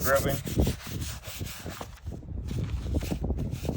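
A soft brush dipped in cleaning liquid scrubs the uppers of 2014 Nike Back Board sneakers in quick rhythmic rubbing strokes, close up, ending in a short pause before the scrubbing resumes.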